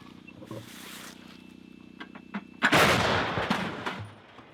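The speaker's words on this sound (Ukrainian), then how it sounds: "Гармата Гіацинт Б 152 калібр, далекобійна артилерія" A single loud, deep boom from a 152 mm Hyacinth-B howitzer firing erupts midway and rolls off into a long rumbling tail, after quieter distant thuds and background noise.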